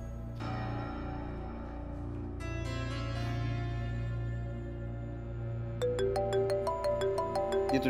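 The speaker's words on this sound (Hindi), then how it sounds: "ये तुझे फोन बार बार किसका आ रहा है यार?" A mobile phone rings in a Pakistani drama scene. A bright, repeating melodic ringtone cuts in over a sustained background music score and keeps ringing steadily to the end.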